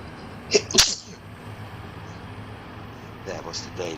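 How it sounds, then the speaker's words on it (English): Two sharp sneezes close together, loud and near, followed by a quiet room hum and someone talking afterward. "That was the daily"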